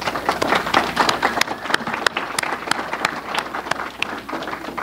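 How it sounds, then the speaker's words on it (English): A church congregation claps in a round of applause, dense overlapping hand claps with sharp individual slaps standing out, moderately close and sustained throughout with no voices. "I want everyone to give them a round of applause"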